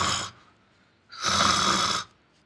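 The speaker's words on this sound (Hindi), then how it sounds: "ये मौसी जी भी कितने खर्राटे लेती हैं, मेरी तो नींद ही नहीं लग रही यहाँ पे।" A loud snore from an aunt asleep, two long rasping breaths with a short gap between them, close by and with no other sound.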